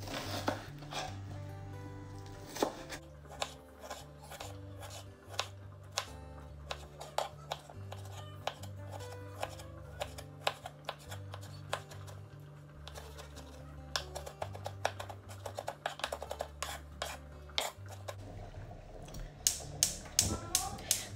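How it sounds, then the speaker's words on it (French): A knife finely chops onion and tomato on a cutting board, giving rapid, steady taps and clicks that run through the whole stretch beneath continuous background music. "alors je vais couper mon oignon vraiment très fin"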